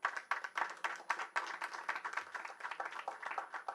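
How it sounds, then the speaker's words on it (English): A small audience at a professional tax session gives brief applause, a few close hands clapping in quick irregular bursts that soften slightly toward the end. "He deserves a round of applause."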